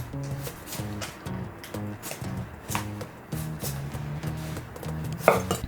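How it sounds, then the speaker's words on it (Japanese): A kitchen knife slices eggplant into thin strips on a cutting board, with a series of quick, regular chopping taps under background music. "ナスもピーマン同様千切りにしていく。"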